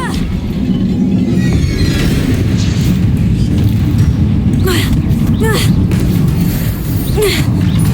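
Spell explosions in the Hogwarts Legacy video game burst over a loud, constant rumbling battle bed. Booms and whooshing pops come in quick succession, with shouted voices in the mix.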